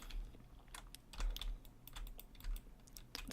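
Soft clicks of a computer keyboard, keys and the space bar tapped in quick irregular presses, faint and close with no talking.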